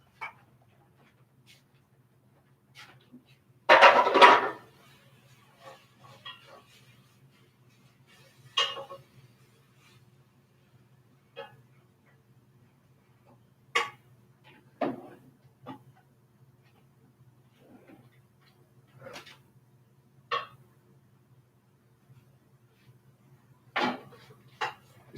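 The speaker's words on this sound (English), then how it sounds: "Let me stir up this kale right quick so I can stuff these peppers for you guys." Kale sauteing in a pan, heard as a scattered series of short scraping clinks from a utensil stirring against the pan, close but fairly quiet, separated by near silence and a faint low hum.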